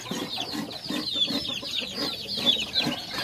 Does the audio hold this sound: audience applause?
no